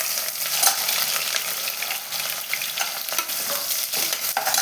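Long-sliced onion frying in a pan for veg dum biryani, a dense steady sizzle with light stirring scrapes, close and continuous, no voices.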